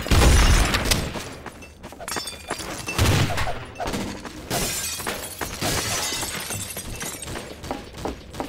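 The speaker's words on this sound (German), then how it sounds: "es ist der Tisch kaputt gegangen" A wooden table in the game Trouble in Terrorist Town smashes apart with loud shattering and crashing bursts, mixed with rapid gunfire-like impacts and clatter over several seconds.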